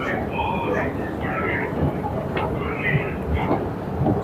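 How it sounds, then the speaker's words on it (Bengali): A Singapore MRT Circle Line metro train runs underground with a continuous rumbling rush and faint squeals, while people talk over it close by. "এই ট্রেনটা মাটির নিচে দিয়ে যায়"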